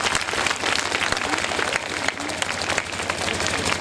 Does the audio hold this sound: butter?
no